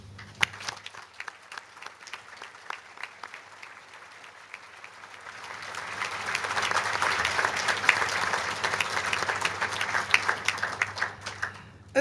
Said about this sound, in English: I think they're deserving of a hearty round of applause.